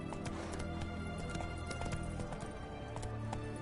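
Horse hooves clip-clop at a steady trot in the Witcher 3 video game, a continuous rhythmic patter of hoofbeats with occasional snorts over ambient game sound.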